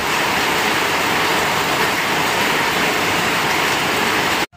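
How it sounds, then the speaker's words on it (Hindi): Heavy October rain pours down outdoors during a morning walk, a loud, unbroken hiss that stops abruptly at the very end. "आज अक्टूबर का महीने है, लेकिन बारिश दे रहा है पूरा।"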